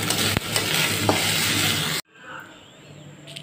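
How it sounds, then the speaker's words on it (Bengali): Vegetables fry in a pan for chili chicken with a loud, dense sizzle that cuts off abruptly after about two seconds, leaving a much quieter background. "এবারে সবজিগুলোকে ভেজে চিলি চিকেন করতে হবে।"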